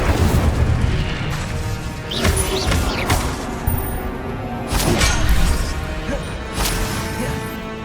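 Repeated Incendio fire spell blasts in the Hogwarts Legacy video game, a string of loud booming bursts and crashes at uneven intervals over continuous game noise.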